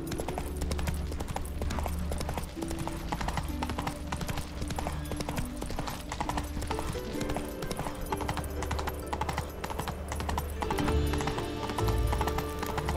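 Horse hooves clip-clopping at a gallop in The Witcher 3 video game, a steady drumming rhythm held under a dense bed of game music and ambience throughout.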